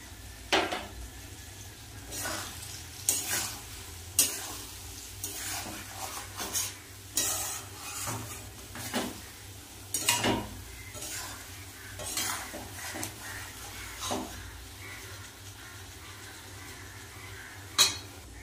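Mustard and poppy seed paste frying in a pan for bean-leaf patoori, a faint sizzle under repeated scraping strokes of a spatula stirring against the metal, irregular and close, with no talking.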